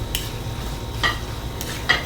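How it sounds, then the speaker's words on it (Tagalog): Shrimp paste (alamang) frying in a pan, a soft low sizzle under two or three brief scraping stirs of a utensil against the pan, close and fairly quiet. "Lulutuin muna natin si alamang bago natin ilagay si tinapa."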